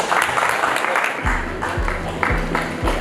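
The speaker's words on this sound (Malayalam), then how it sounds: "നല്ലൊരു കയ്യടി" Applause from a crowd at a Metal Spot tenth anniversary event, a bright wash of clapping mixed with scattered voices, while deep rhythmic thuds pulse underneath.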